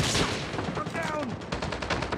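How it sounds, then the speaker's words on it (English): Rapid gunfire from a Call of Duty match, a close, steady string of automatic shots over about two seconds with brief sharp bursts. "I got shot."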